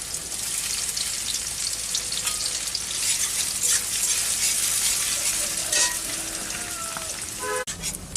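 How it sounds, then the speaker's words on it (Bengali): Onions fry in hot oil with a loud, constant sizzle and crackle, broken by a few light metallic clinks near the end. "এখন পেঁয়াজ দেওয়া হলো পেঁয়াজটাকে ভেজে নেওয়া হচ্ছে"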